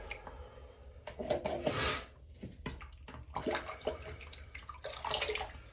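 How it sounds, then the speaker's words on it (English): Water splashes and trickles onto a puck of shaving soap to soften it, close and steady with a few brighter gushes and sputters. "Just gonna wet the soap a little bit to soften it up."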